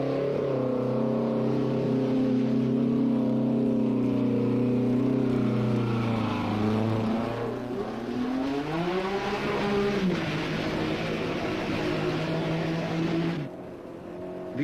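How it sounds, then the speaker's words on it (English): Ford Escort rally car speeding back toward Nairobi on the 1977 East African Safari Rally, its engine a loud, sustained rasp that holds pitch, dips as it shifts and climbs again before cutting off near the end. "His escort speeds back to Nairobi after what must rank as the finest drive of his career."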